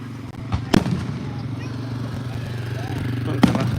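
Fireworks bursting at a night event, with two sharp loud booms standing out early and late over a steady low rumble and crowd murmur, people talking faintly in the background.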